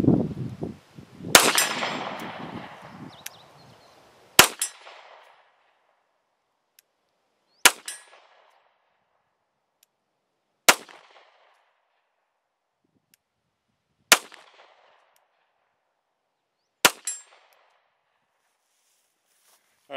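Single shots from a CZ P-10 C pistol at an outdoor target range, about seven sharp, loud reports spaced roughly three seconds apart, each with a short ringing tail, the first ones crowded by handling noise.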